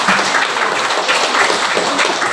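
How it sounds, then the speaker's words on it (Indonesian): Applause from participants at an offline teacher training session in Indonesia: a dense, moderately loud patter of many hands clapping continuously for a couple of seconds with no talk over it. "Tepuk tangan dulu."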